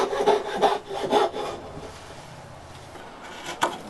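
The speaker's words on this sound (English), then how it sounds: "then a coping saw, just to cut around the outer edge" A coping saw cuts around the outer edge of a circular wooden handle in a hand-tool woodworking shop, with a few rhythmic rasping strokes, then quieter scraping that trails off.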